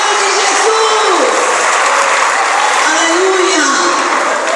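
A church congregation applauds in a steady, dense wash of clapping that fills the whole stretch at close range, with a voice carrying over it.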